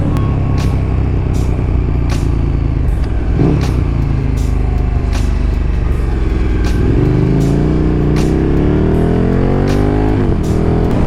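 KTM Super Duke R motorcycle with a 1.3-liter V-twin engine, loud and close, a steady rumbling drone with a rising pitch sweep partway through and regular sharp ticks.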